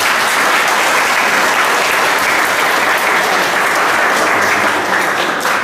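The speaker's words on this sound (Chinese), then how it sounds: "一个温暖的掌声" A gallery audience gives warm applause at a solo art exhibition in an art museum. The clapping is loud, close and continuous for the whole stretch, a dense even wash of hands with no voices over it.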